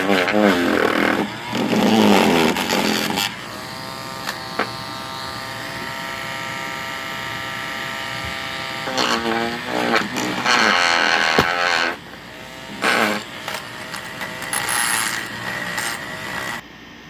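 A wire wheel brush strips leftover paint from a Maisto Honda Civic model car, giving harsh, close, whining grinding bursts that alternate with a steadier, humming motor tone and brief pauses.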